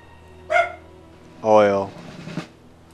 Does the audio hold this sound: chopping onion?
no